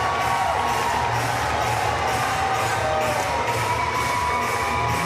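Stadium crowd at a Paralympic powerlifting competition cheering and whooping continuously, a dense sustained roar with rhythmic swells as if clapping or chanting along.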